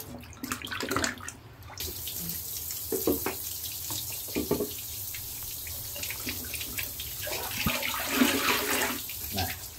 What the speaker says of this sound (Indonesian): Nah, bilas lagi.